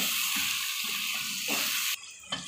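Chicken frying in a pan with coriander and red chili spices, a steady broadband sizzle running throughout, close and fairly loud, with a brief stirring clatter near the end.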